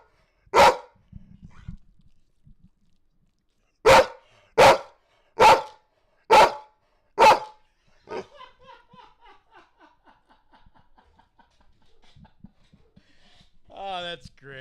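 A dog barks at a screen in a run of sharp, loud barks, one single then five in quick succession, followed by quieter murmuring and faint laughter near the end.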